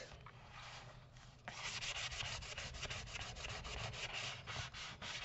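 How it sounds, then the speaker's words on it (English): The coarse side of a fingernail file scrapes back and forth across ribbon in quick, rhythmic rasping strokes that grow louder partway through, close up and without talk. "And I'm just using a fingernail file."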